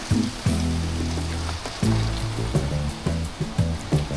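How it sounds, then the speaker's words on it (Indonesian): The Kapas Biru waterfall in Lumajang roars as a broad, steady rush of falling water, with low tonal rumbles and brief louder surges rising over the constant noise. "Ini dia air terjun Kapas Biru ya."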